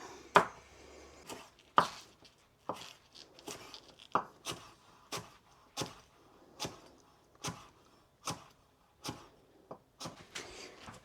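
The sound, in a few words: chopping garlic with a knife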